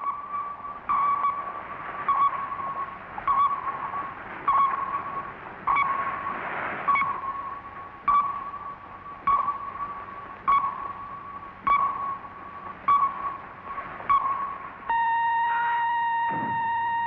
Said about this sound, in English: The pinging noise would echo off a submarine.